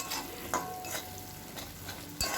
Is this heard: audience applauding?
no